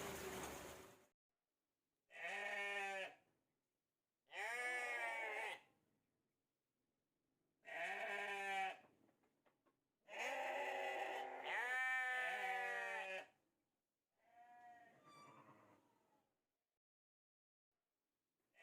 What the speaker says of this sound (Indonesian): domba yang sedang kita lihat pada video ini adalah domba betina yang sedang sakit